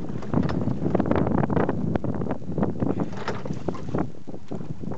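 Steady wind gusts buffet the microphone outdoors, a rough rushing noise with water-like churning underneath, moderately loud throughout.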